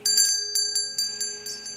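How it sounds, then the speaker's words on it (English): A door chime bell at a mechanic's shop rings in a quick series of bright, clear metallic tones, several strikes in an uneven rhythm with ringing overtones, close and alone. "Then the door chimes"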